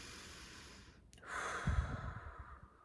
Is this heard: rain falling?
no